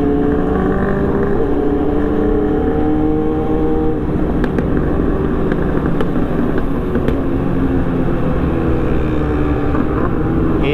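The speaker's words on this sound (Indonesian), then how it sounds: "Buset, beletak-beletak cuy motornya." Yamaha R1 sport motorcycle in city traffic, a loud droning engine note that shifts in pitch, with a few faint crackling pops from the exhaust partway through, and no voices.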